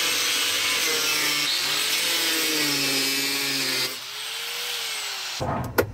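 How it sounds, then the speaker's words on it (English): An angle grinder cuts into a washing machine with a loud, continuous high whine whose pitch wavers and dips under load, then drops and changes tone before stopping abruptly near the end. "let's just get the angle grinder in there"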